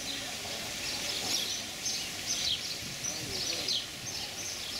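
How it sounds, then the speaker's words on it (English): Birds chirp and sing in short bright bursts around a shaded village square with palm trees and a fountain in Vejer de la Frontera, Andalusia, steady and moderately distant over a soft background murmur. "You hear the birds."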